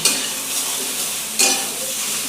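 Turmeric and spices get stirred in a hot pan for a Bengali hilsa fish curry, a close, dense sizzle with a sudden louder scrape and hiss partway through.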